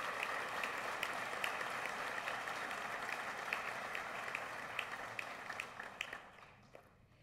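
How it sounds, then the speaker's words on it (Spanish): Applause at a university's 75th anniversary ceremony honoring a student with the second-best grade average: a large audience claps steadily for several seconds, then the sound thins out and fades toward the end. "Fuerte el aplauso para la y el segundo mejor promedio."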